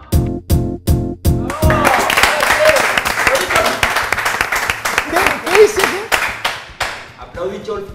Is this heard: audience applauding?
yes